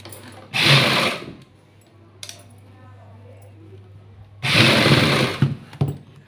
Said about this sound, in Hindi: हम लगभग आधा इंच छोड़ करके सिलाई लगाएंगे।